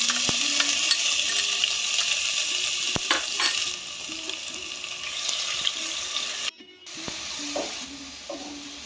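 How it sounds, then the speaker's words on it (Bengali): Garlic, onion and ginger frying with whole garam masala spices for a pointed gourd and prawn curry, giving a dense steady sizzle punctuated by sharp clinks and scrapes of stirring, with a brief drop before frying resumes. "রসুন পেঁয়াজটা আমরা একটু ফ্রাই করে নেব"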